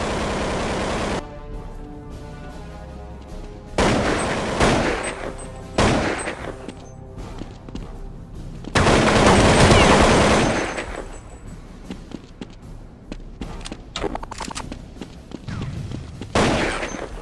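Counter-Strike 1.6 gunfire in a pro-match highlight: loud, sharp bursts and single shots in clusters with rapid automatic fire, broken by brief quieter gaps of in-game ambience.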